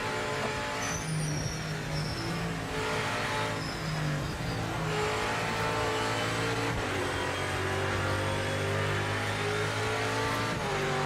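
Race car engine in Project Motor Racing, a loud steady whine that climbs in pitch through the gears with brief drops at each upshift, with a faint tire squeal partway through.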